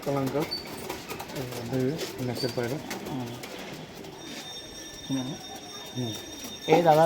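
Kalanka match-flying pigeons coo in a loft in Nabadwip with repeated low, throaty calls, fairly close, alongside a faint steady mechanical whine.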